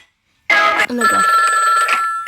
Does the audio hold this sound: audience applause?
no